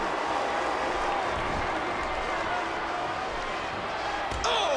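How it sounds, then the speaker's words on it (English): A wrestling crowd at a match applauds and cheers in a loud, continuous wash of clapping and voices. "Would you listen to this crowd show their appreciation for these amazing competitors?"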